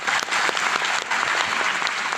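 Seminar audience applauding loudly in a hall, a dense, steady burst of clapping that holds for about two seconds with no speech over it.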